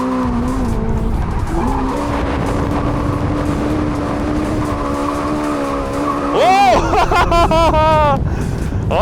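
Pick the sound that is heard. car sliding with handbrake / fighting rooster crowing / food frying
car sliding with handbrake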